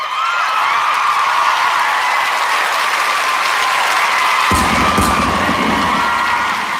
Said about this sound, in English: Wait, where's my applause?